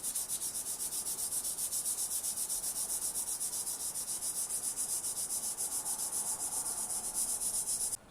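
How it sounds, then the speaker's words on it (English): Small pieces of sandpaper rubbed by hand along a metal sword blade, a steady rapid back-and-forth scratching that runs continuously at close range with no pauses or voices. "painstaking hand sanding with little pieces of sandpaper of different grains like this"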